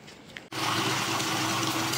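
Water sprayed onto a sandy RC car during washing: after a brief quieter start, a steady, loud hissing spray kicks in abruptly and continues without a break.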